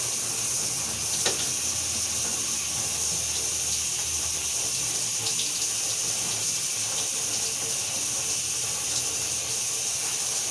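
A shower runs with a constant, close hiss of spraying water, steady and fairly loud throughout, with a few faint clicks and knocks beneath it and nobody speaking.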